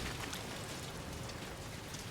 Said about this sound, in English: how they have the sound of the rain hitting the crates